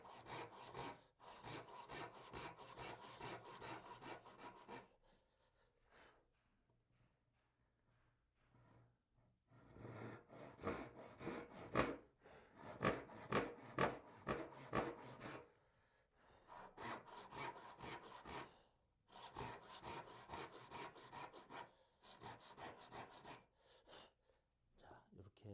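A handsaw cuts wood for a three-way mitre joint in a traditional joinery workshop, giving rhythmic rasping strokes in several bursts with short pauses between them, close and clear.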